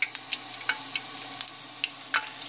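A single potato piece dropped into hot oil while making french fries, giving a faint, steady frying hiss broken by small crackling pops throughout, heard alone without voices.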